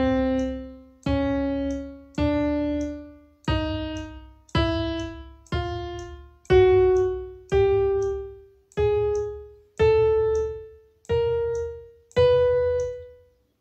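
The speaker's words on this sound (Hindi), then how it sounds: "तो ये थी हमारी 12 नोट्स, जो कि मैंने क्रोमैटिक ऑर्डर में बजाई" Twelve notes played one by one in chromatic order on an FL Keys electric piano plug-in, each a clean, evenly spaced, decaying keyboard tone rising step by step, loud and alone with no talking.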